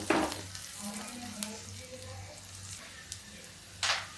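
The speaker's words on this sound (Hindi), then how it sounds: "तो ये लहसुन को पका लेते हैं।" Chopped garlic fries quietly in a small amount of oil pushed to one side of the pan, a faint steady sizzle with a spoon scrape at the start and another near the end.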